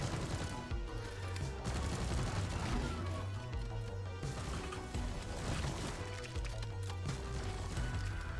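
Automated sentry turrets in Deep Rock Galactic fire nonstop in a dense, steady rattle, blended with explosions and a thick wash of game noise throughout.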